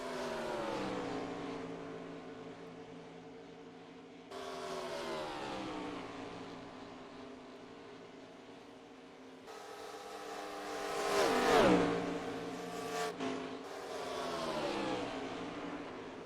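Race cars in NASCAR Racing 2003 drone steadily with rising and falling engine pitch, one car revving hard and sweeping past near the middle, a fairly quiet continuous roar with no talk.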